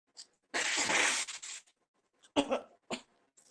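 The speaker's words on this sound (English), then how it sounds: "Blow my nose first, then clear my throat." Someone blows their nose in a loud, drawn-out honk, then clears their throat with a couple of short, rough bursts, up close.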